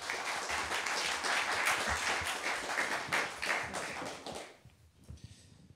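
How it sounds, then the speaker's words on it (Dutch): An audience at a panel talk on therapy and social media gives warm applause, a steady patter of many hands that fades out in the last second. "Mag ik een hartelijk applaus?"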